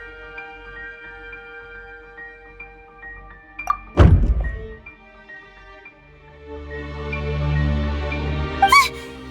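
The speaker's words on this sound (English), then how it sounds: "I seem to have accidentally knocked over a decoration." In Genshin Impact, over quiet background music, a decoration is knocked over with a sudden heavy thunk and clatter, followed by a low rumble and a sharp squeak near the end.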